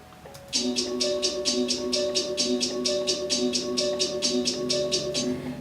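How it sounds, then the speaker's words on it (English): Crisp, bright open hi-hat sample hits repeat in a fast, steady pattern over a sustained tonal backing, each short hiss evenly spaced like a loop. "I dragged in a sample of an open hat"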